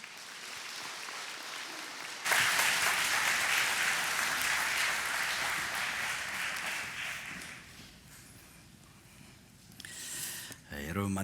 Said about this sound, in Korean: 큰 박수로 함께 환영해 주시면 좋겠습니다